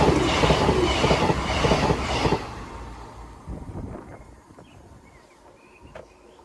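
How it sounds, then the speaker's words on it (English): Class 390 Voyager passenger train passing on the line, loud rumble and clattering wheels at first, then fading away into the distance over the last seconds. "That Voyager was out from Manchester Piccadilly to Bristol Temple Meads."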